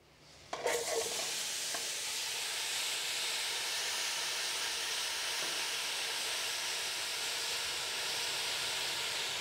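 Apples dropped into hot oil in a pan burst into a loud, steady sizzle after a brief quiet start, the hiss holding evenly to the end with no one talking.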